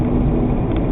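Chevrolet Cavalier with a spun bearing, driving at low revs around idle to 1200 RPM: a steady low engine rumble with a droning hum, close and continuous, no talking.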